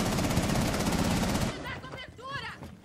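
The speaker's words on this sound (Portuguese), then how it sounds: "Cadê, caralho? De onde tá vindo esse tiro," Rapid automatic gunfire in Rainbow Six Siege, a loud dense burst of shots for about a second and a half that then cuts off, followed by excited talk from players.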